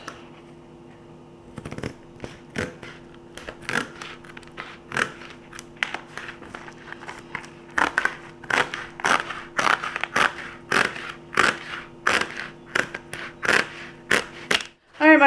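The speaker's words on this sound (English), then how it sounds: "let's go ahead and cut this out" Scissors cut through material for a spice cabinet organizing job, making a long series of crisp, close snips in an irregular rhythm that grow louder and quicker toward the end.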